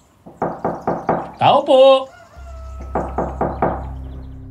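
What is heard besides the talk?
knocking on a mansion door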